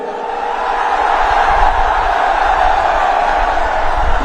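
A vast crowd at a political rally, heard as a loud, dense, continuous roar of many voices that stays steady throughout, with no single voice standing out.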